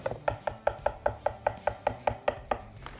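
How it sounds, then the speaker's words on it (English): A kitchen knife chops food against a cutting board while preparing Turkish köfte meatballs, about thirteen evenly spaced sharp chops in a steady rhythm, close and clear with no talk. "chopping it and pushing it down to the board"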